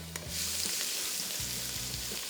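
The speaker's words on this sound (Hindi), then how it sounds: "चॉप किया हुआ लहसुन शामिल करना है। इसको थोड़ा सा करेंगे फ्राई" Chopped garlic sizzles in a hot pan as a chicken pad thai gets started, a close steady crackling fry with a couple of brief low stirring knocks.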